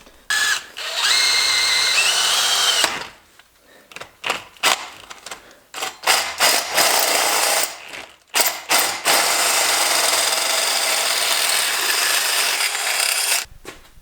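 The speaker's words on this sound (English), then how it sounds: "So I just got to drill those out now" A power drill bores holes in exhaust pipe for a turbo Mustang's stacks, its high whine running in several bursts of varying length with ratcheting, grinding bites and short pauses between them, close and loud.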